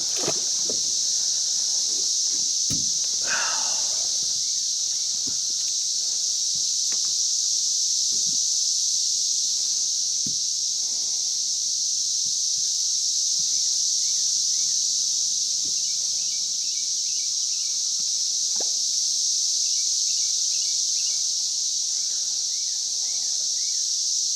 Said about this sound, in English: All cicadas.